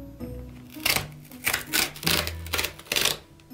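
Cardboard art supplies subscription box torn open by hand, a series of sharp, crackling rips in quick bursts, close and fairly loud, about six tearing strokes in a row.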